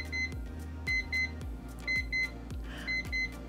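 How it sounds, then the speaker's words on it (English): A Lovevery Investigator Kit color timer sounds its expiry alarm as a repeating series of short, high electronic beeps in pairs at a steady rhythm, close and clear, with soft low thumps between them. "as it gets closer to it expiring, the time goes to yellow, orange, red, and then it ultimately beeps."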